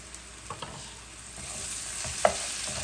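Beef masala fries in oil in a pan while being stirred, a soft continuous sizzle with a few scraping knocks, close and moderately quiet with no voices.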